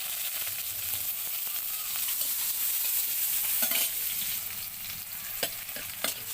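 Onion frying in oil for a chicken curry, a steady broad sizzle with scattered sharp spoon-stirring scrapes and clicks toward the end, close and fairly loud, with no talk.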